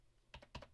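Quick keystrokes on a computer keyboard as a web address is typed, heard as two close, crisp bursts of clicking separated by a short pause, with no one talking.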